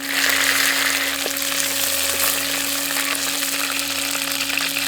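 Curry leaves hitting hot oil in a pan for a village-style moth bean gravy, a loud, steady crackling sizzle close up that barely changes for a few seconds.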